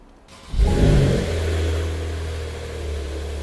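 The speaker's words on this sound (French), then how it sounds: "Et là, normalement, la voiture fait plus de bruit." A Lamborghini Aventador in a showroom fires into a sudden loud rev, then eases into a deep, steady engine drone that slowly fades, with no talk over it.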